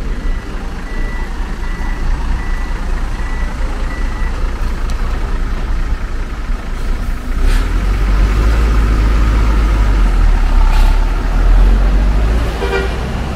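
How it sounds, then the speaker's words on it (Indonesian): The Haryanto bus HR 115 White Rose rolls into Poris bus terminal in Tangerang with a loud, deep engine rumble and repeated beeps and horn toots. The busy terminal din carries on underneath throughout. "Bis Haryanto pertama yang masuk Poris hari ini, HR 115 White Rose tujuan Wonogiri"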